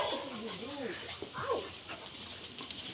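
Dogs whimper and whine in a rescue's sleeping room lined with dog houses and crates, a series of rising and falling cries close by, with voices and room noise underneath.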